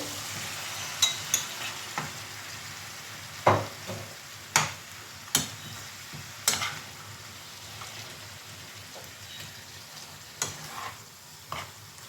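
Fresh tomatoes go into a sizzling frying pan over a gas flame, giving a steady close sizzle punctuated by sharp scattered clicks and scrapes of stirring, with no voices.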